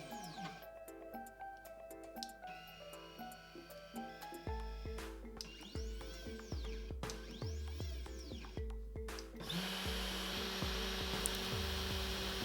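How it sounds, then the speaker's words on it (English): Stepper motors of a Lunyee 3018 Pro Ultra CNC machine whir and whine in short, repeated bursts, with rising and falling pitch sweeps as the axes move, fairly close and steady throughout, ending in a louder sustained run. "We select Move from the menu, and as you can see, all the motors are working."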